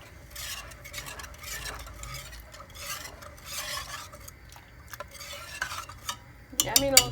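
Utensil stirring a flan pâtissier custard mixture in a pot over medium heat, with steady scraping and swishing strokes repeated across the pot, fairly close, ending in a brief louder clatter.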